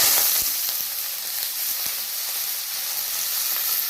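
Kharkol leaves frying in hot oil give a steady, close sizzle and hiss with scattered crackles and pops and the occasional stir, with no one speaking.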